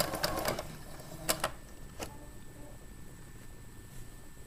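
Sewing machine stitching a seam in fabric guided by hand at a 5/8-inch seam allowance, heard as a few faint, brief clicking bursts near the start over a quiet room hum.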